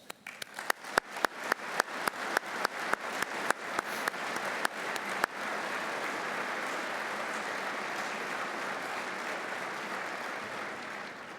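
An audience at the opening ceremony of an Army aviation summit applauds its aviation leaders, first in sharp separate claps that quickly swell into a dense, sustained wall of clapping from a large hall.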